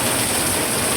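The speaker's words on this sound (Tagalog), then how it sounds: "Guys, sobrang lakas ng ulan." Heavy rain pouring down outdoors, a loud, steady, broadband rush with dense patter and no pauses.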